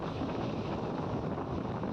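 Steady, rushing wind noise buffets the microphone without a break during an unseasonal rainstorm in Morbi, Gujarat, with a broad rainy hiss underneath and no voices.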